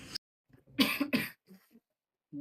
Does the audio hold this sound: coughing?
yes